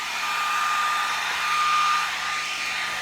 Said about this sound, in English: now we're going to put our hairdryer on low